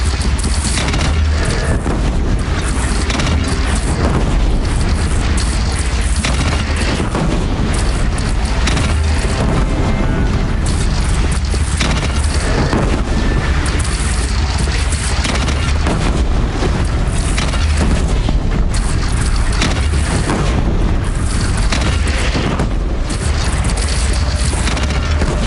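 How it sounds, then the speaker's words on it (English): A cannon fires in the video game Horizon during a bandit clan battle, delivering dense, continuous booming blasts and rumbling crashes that stay loud throughout, with no talk heard. "They only have one cannon!"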